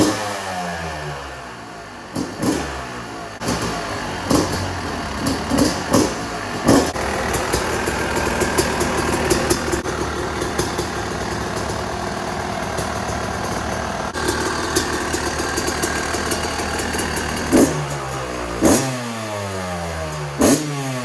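A Yamaha YZ250 two-stroke engine, converted into a 2021 Tri Z 250 style three-wheeler trike, starts after a few short bursts and then runs steadily at a close, loud idle with some revving, alone.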